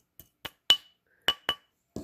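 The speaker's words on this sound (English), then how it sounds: "I'm going to hammer this down" Six sharp metallic taps of a hammer flattening a small metal swirl ring, close and crisp with ringing tails, spaced irregularly with silence between blows.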